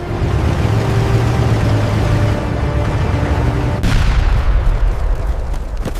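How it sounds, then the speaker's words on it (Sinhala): Loud, dense battlefield din of continuous gunfire and deep booming blasts rolls on without a break, with a sharp burst near the middle. "දිගටම වෙඩි තියන්න."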